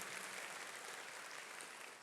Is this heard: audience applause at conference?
yes